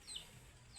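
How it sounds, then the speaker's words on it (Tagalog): A chicken in a backyard on a rainy morning gives a couple of short, faint clucks at a moderate distance, with quiet background and no talking. "Yung manok."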